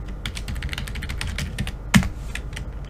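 Keys clatter steadily on a computer keyboard as an email address and password are typed to log in to a Google Chromebox, with one sharper, louder keystroke near the end and no voices.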